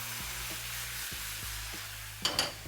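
Vermouth added to a hot pan sizzles and crackles steadily at close range, with light stirring scrapes and a brief louder hiss near the end.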